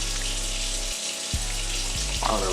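Water runs steadily from a kitchen tap throughout, a constant close hiss under the cooking of a seafood jambalaya, with a faint low hum and a few small clanks.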